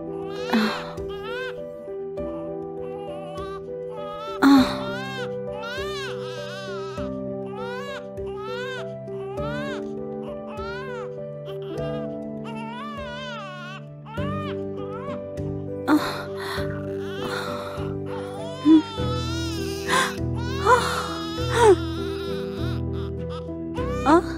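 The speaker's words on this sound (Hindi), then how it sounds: "बच्चे के रोने की आवाज आ रही है।" An infant cries and wails in a dubbed Turkish film scene, a long run of shaky, rising cries heard over a sustained musical score, with occasional sharper sobs and breaths standing out.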